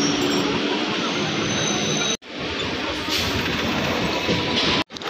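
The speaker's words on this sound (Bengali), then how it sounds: "ট্রেন ঢুকে পড়েছে" A Howrah–Bandel train rumbles steadily into a station with broadband wheel and rail noise, close and loud, briefly cutting out twice.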